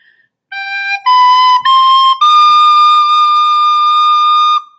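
A recorder plays the opening notes of When the Saints Go Marching In, four clear, steady tones rising in pitch, with the last note held long, played alone.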